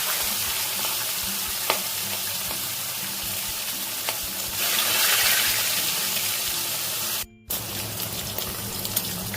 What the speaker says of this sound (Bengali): মাছটা ভাজবো মাছটা যাতে কড়াতে লেগে না যায় মাছটা ভেজে নেবো